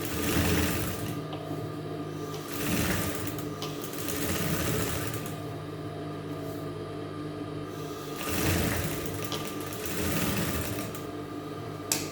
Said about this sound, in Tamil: நல்ல பக்கத்தில் இப்படி மேலே வச்சுட்டு தைக்க ஆரம்பிச்சோம்